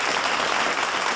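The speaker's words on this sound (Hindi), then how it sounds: "सभी को भरपूर तालियां अपने लिए बजाने में" Studio audience applause on an Eid special morning show, a dense steady wash of many hands clapping at even loudness throughout, with no voices.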